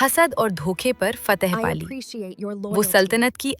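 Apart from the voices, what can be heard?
None of the usual background noises is heard.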